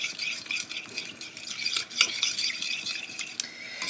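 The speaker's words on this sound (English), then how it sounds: "in this bowl, we have some olive oil, some minced garlic, we have some red pepper flakes" Olive oil, minced garlic, red pepper flakes, salt and pepper being stirred in a bowl, a close, continuous scrape and clink of a utensil against the bowl for a few seconds without talking.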